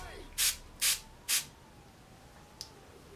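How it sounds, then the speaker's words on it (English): Three short, even hisses of H2 Ocean cleaning spray onto a cotton ball, close and alone, followed by a faint tick. "you're going to take your H2 Ocean or whatever you're gonna use to clean your ears, and you're just gonna spray it on the cotton ball."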